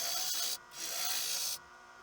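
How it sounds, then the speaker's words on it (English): A wooden lid is hollowed out on a woodturning lathe, giving a continuous scraping, rasping hiss from the tool cutting the spinning wood, close and steady, with two brief dips as the cut lifts off. "I'm just going to hollow out to somewhere close to that line there"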